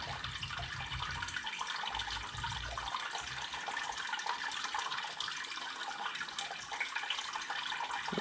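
Sparge water pours steadily and close by onto grain in a brew-in-a-bag mash, a continuous splashing trickle onto a soft surface that holds even throughout.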